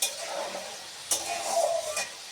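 Chickpeas frying in hot oil give a steady bright sizzle, with a few sharp utensil ticks against the pan as they are stirred, close and moderately loud.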